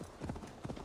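Horse hooves clip-clopping at a steady trot in Assassin's Creed Valhalla, quiet and brief, with a few rhythmic hoofbeats.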